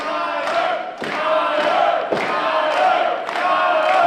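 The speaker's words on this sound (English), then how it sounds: "Great fans here in the Casa Loma Ballroom cheering for Skyler Beckett and the buddy system" Wrestling fans in the Casa Loma Ballroom roar and cheer in a loud, sustained crowd swell, with rhythmic claps or stomps recurring about once a second.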